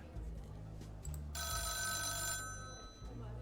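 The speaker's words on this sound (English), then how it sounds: "A phone call from Coralie's mother interrupted." A telephone rings in the detective video game Coffee Noir with a single sustained electronic bell tone that lasts about a second, loud and clear over a low background hum.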